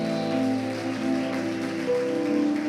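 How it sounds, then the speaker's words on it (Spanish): A church congregation applauding during a Sunday Father's Day service, a dense continuous wash of many hands clapping at once, with music and sustained tones underneath. "Denle un aplauso a Cristo"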